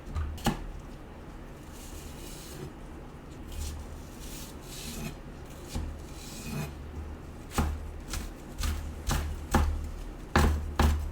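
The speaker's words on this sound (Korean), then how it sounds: "일단은 파를 다져줄 건데" A knife thinly slicing green onion for egg fried rice, crisp close cuts landing in irregular bursts with louder strokes toward the end, no talking.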